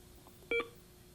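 A short electronic button beep from a Canon Navigator HD40 as the hour is set, one brief clear tone, quiet but distinct against a faint background hum.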